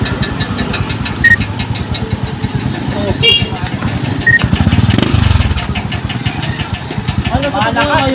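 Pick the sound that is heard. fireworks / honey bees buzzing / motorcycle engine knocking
motorcycle engine knocking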